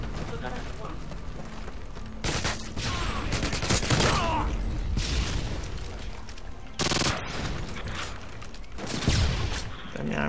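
Gunfire from the video game Modern Warfare 2: dense bursts of automatic fire and loud blasts fill the whole span, with rapid shots and heavy booms running under a player's excited talk.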